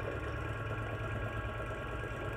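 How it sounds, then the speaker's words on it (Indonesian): A DC motor spins steadily at 600 rpm on a 60-volt DC supply during a bench test, giving a continuous, even low hum with a faint mechanical buzz and no pauses. "Pengujian ketiga, motor DC dijalankan pada kecepatan 600 rpm"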